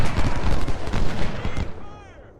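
Artillery booms and rolling gunfire from a Civil War battle game at First Bull Run, a dense, continuous barrage of heavy cannon blasts and crackling volleys that gradually fades toward the end.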